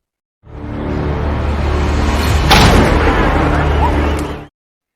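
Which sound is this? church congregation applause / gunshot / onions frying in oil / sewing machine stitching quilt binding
gunshot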